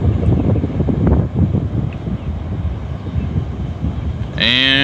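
West to southwest wind gusting on a calm beach along the Volusia County shoreline, a steady close rumble of buffeting noise across the microphone, with a brief tonal whine near the end.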